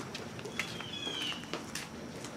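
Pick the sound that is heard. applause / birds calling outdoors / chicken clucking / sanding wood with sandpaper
birds calling outdoors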